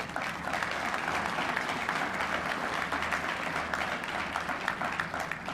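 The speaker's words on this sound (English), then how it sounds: "Let's give everybody applause for being a partner" A crowd at a city's State of the City address applauding community partners, a dense, even wash of many clapping hands heard from some distance, sustained throughout without a break.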